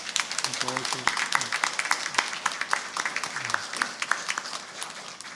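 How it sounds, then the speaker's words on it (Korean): A church congregation claps to welcome a visiting pastor's wife, a dense, steady patter of many hands filling the sanctuary, with voices speaking over the applause. "사모님도 오셨는데 박수로 환영하겠습니다."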